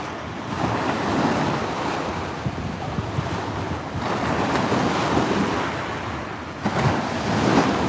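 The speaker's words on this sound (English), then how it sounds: "Oh, the wind's just starting to kick again." Wind blowing outdoors by Lake Wakatipu in Queenstown, New Zealand, buffeting the microphone as a continuous loud roaring rush that swells and eases in gusts, with no voices.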